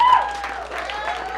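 Audience at a comedy show applauds, a brief burst of crowd clapping that stays fairly even and moderately loud under a faint voice.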